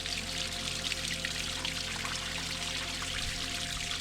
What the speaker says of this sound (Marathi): तर आता आपण पाणी भरूया पहिले